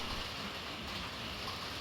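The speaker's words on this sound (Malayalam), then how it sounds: "പെട്ടെന്ന് ഒരു മഴ പെയ്തട്ടാ പെട്ടെന്ന് തോരയും ചെയ്തു" A brief, sudden rain shower patters in a steady, soft, even wash of drops, faint and distant with no other sounds.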